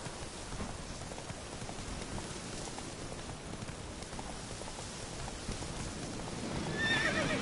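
Roach the horse in The Witcher 3 gallops with steady clip-clop hoofbeats under heavy rain, and a neigh rises clearly toward the end.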